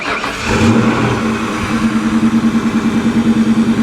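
An Alfa Romeo car engine, on a wrecked car at a salvage yard, revs up from idle, then settles into a steady pulsing rumble, loud and close with no talk over it.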